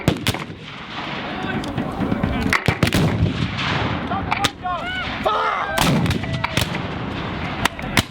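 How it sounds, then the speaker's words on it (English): Heavy cannon fire booms repeatedly at an American Civil War battle reenactment, with sharp crackling gun volleys scattered throughout, loud and sustained with brief gaps. "Cannons didn't just shoot cannonballs."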